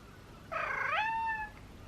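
A single drawn-out cat meow, rising then gliding down, fairly close and clear against a quiet background.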